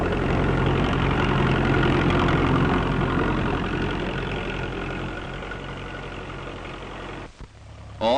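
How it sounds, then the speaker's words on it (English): A 1940s farm tractor in England drones steadily while pulling seed drills that sow 26 rows at once. The low engine hum fades slightly, then cuts off abruptly near the end. "great tractor-drawn drills sow the seed 26 rows at a time"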